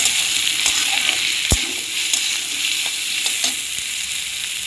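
Spices for a sweet-and-sour mango pickle fry in hot oil, a steady close hiss and crackle with a few sharp stirring clinks against the pan and no voices.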